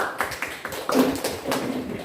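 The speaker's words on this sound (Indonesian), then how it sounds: "Tepuk tangan." A small group of teacher trainees in a classroom claps hands in scattered, uneven bursts of sharp smacks, fairly close, with some voices faintly mixed in.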